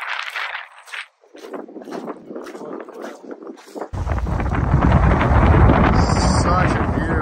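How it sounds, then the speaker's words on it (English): Strong wind buffeting the microphone beside choppy water on a mountain lake in the Eastern Sierras, a loud continuous roar that takes over after someone speaks briefly at the start. "It's windy, it's choppy."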